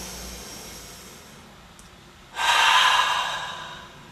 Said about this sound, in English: Take a deep breath in through the nose.